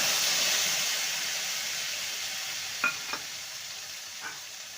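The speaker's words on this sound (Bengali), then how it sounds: "এবার আদা টমেটো কাঁচা লঙ্কা বাটাটা দিয়ে দেব" A paste of ginger, tomato and green chili fries in a pan with a steady, close sizzle, broken near the end by a few sharp scrapes or taps of a spoon on the pan.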